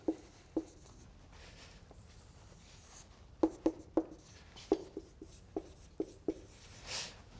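Pen scratching on paper as notes are written by hand during a maths lesson, a series of short, close, crisp strokes in irregular bursts with pauses between, alone without talk.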